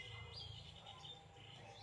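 Birds chirp faintly in the morning, a few thin tweets over a soft, distant background hum.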